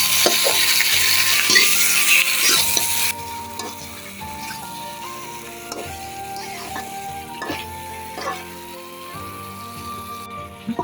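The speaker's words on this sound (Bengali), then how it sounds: "পেঁয়াজ কুচিয়ে দিয়ে নিলাম। দিয়ে নেব ম্যারিনেট করা মাংসটা ঢেলে দিলাম।" Marinated duck meat frying with chopped onions and bay leaf, a close, steady sizzle with occasional spatters and stirring, while soft melodic tones play beneath.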